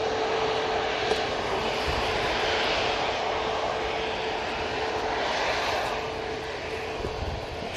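An airliner arriving at Manchester Airport from Chisinau gives a steady, broad jet roar that holds evenly throughout at moderate distance, with no talk over it.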